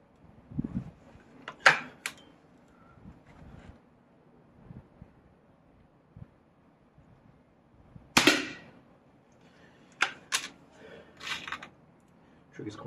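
Weihrauch HW99S air rifle firing at a target, a few sharp, close snaps spaced several seconds apart against a quiet background, with someone talking softly between shots.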